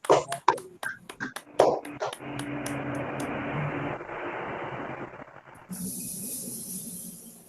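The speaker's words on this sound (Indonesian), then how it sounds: "Tepuk tangan untuk semuanya" A group gives a round of applause, starting with a few sharp separate claps and swelling into a dense, steady patter that lasts several seconds before fading into a hiss.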